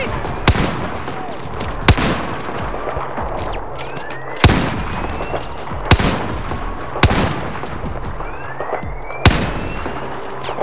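Machine gun fire in the video game Battlefield 4: sharp, loud bursts and single cracks recurring every second or so over a rumbling battle backdrop, with occasional whooshing projectiles.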